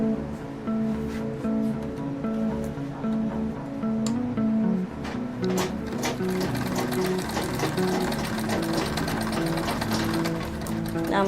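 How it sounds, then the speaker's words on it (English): Sewing machine stitching the side of a bag, a steady fast mechanical whir and rhythmic needle clatter running continuously at close range, with a faint tonal hum underneath. "I've sewed the first one and let me do the second one."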